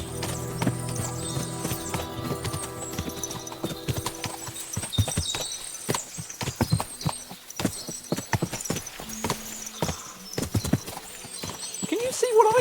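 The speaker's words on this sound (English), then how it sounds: "What a lot of horses!" Several horses' hooves clip-clop in the Kingdom Come Deliverance 2 game, irregular hoofbeats near and far with an occasional whinny, heard under voices talking.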